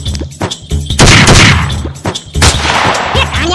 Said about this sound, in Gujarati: ફાયરિંગ કર ચાલુ રાખ ચાલુ રાખ